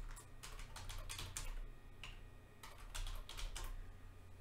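Root password typed on a computer keyboard during a Pure OS install, a quiet, close clatter of keystrokes in two short runs with a brief pause between.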